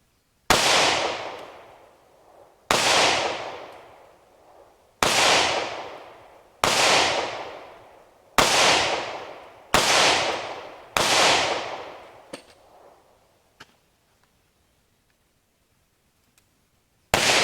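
Seven sharp shots from a J-frame revolver and a Glock 36 .45 ACP pistol fired at 7 yards, booming out at a slow, steady pace with ringing decay, then near silence and one last faint shot.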